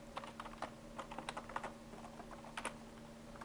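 Quick, irregular keystrokes on a computer keyboard as a name is typed, faint and close, with no talking.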